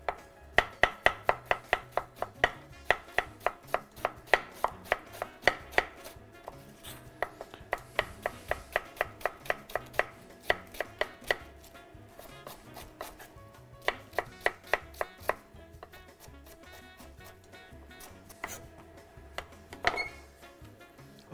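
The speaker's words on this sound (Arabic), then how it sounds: "بنقطع قطعة صغيرة من الملفوف، كمان بنفس الطريقة بدها تكون كتير ناعمة" A knife finely shreds cabbage on a board, sharp rapid chopping strokes in steady bursts with brief pauses between runs, close and clear with no speech.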